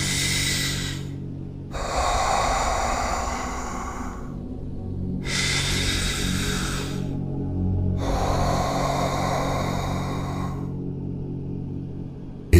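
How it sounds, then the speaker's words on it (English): Someone takes slow, deep breaths, three long loud hissing inhale-exhale cycles separated by short silent pauses, close to the microphone, with no talking. "So, take a deep breath."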